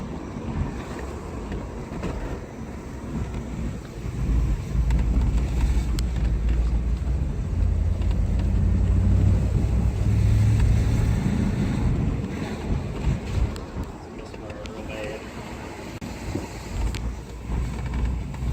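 A V8-swapped BMW E46 runs rough and misfires on its first drive, a loud, uneven low rumble that swells mid-clip, with wind noise and no talking.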